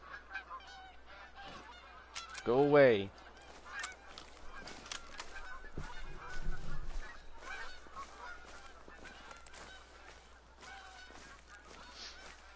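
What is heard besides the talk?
geese honking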